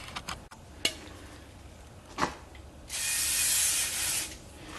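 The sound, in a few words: brake cleaner sprayed onto Jeep Wrangler rear brake rotor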